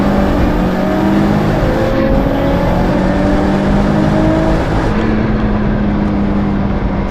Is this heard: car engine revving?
yes